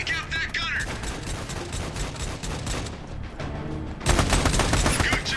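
Rapid bursts of automatic gunfire crackle through a video game battle in Mogadishu, dense volleys of shots and loud firing close by, with a sharper louder barrage near the end.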